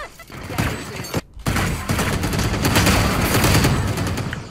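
Sustained automatic gunfire in a video game, dense rapid bursts that continue almost without a break, loud and close, with a brief pause early on and speech mixed in.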